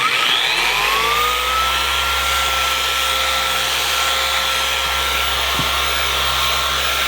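A polishing machine spinning at 6,000 RPM against a Terminator Cobra exhaust gives a steady, loud, unbroken whirring drone with a faint high whine throughout.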